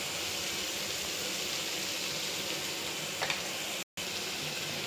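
Bay leaf and ground spice paste fry in hot oil with a steady, close hiss, continuous and fairly quiet, with one brief dropout near the end.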